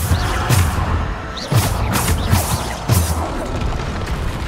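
Deep magical explosions from the Bombarda spell in Hogwarts Legacy burst three times at roughly regular intervals, each loud boom followed by crackling debris and rumble during a chaotic game fight.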